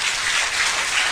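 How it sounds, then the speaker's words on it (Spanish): A church congregation breaks into sustained applause, dense even clapping filling the whole moment with no voices on top. "Le da un aplauso al Señor."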